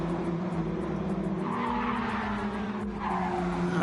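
A race car screams around a circuit on a flying lap in a racing video game, its engine droning steadily with tires squealing and skidding through corners, loud and continuous.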